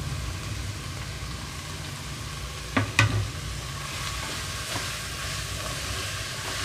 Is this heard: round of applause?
no